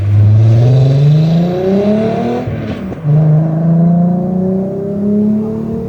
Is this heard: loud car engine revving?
yes